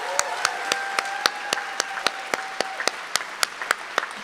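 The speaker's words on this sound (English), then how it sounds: "Can we give them all another round of applause?" Audience applause at a Veterans Day commemoration at the Reagan Library, close and fairly loud, with individual sharp claps standing out over a steady patter and a brief held tone running underneath.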